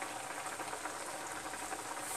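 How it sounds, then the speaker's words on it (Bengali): Carrot halwa mixture boils in a pan on the stove, a soft, steady bubbling hiss with no other sound. "এটা ফুটে গেছে"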